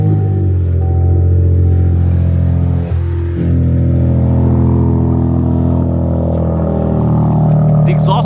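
A 2026 Dodge Charger Scat Pack cold-starts with a loud exhaust bark, then holds a strong, close, steady high idle with a brief dip in revs midway, its deep rumble continuing throughout.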